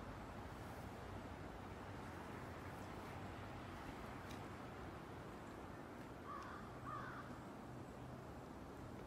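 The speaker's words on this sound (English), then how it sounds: "Crow sound." A crow caws a couple of times in the distance over a steady wash of ocean surf and wind.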